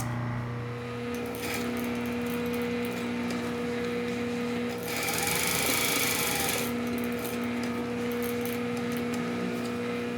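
A sewing machine stitches a welt pocket opening with a steady mechanical whir and hum, briefly louder and busier in the middle, heard alone and close.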